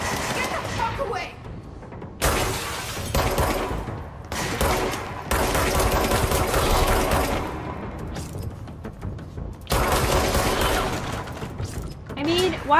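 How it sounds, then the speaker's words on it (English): Gunfire in the action video game Control comes in several dense bursts of rapid shots and impacts, separated by brief pauses, mixed with mechanical clatter while someone talks and exclaims over the action. "I mean, why am I shooting them?"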